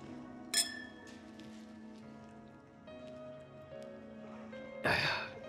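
Glasses clink in a celebratory toast marking a 100-day anniversary in an urban drama scene, with two bright, sharp clinks several seconds apart over a quiet room.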